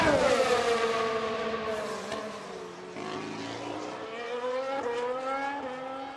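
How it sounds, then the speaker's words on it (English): Formula 1 cars in the F1 Manager 2022 racing game, Aston Martin team, engines droning steadily with rising and falling pitch as cars pass and shift gears, loud and continuous throughout. "Just the sound of the engines as well."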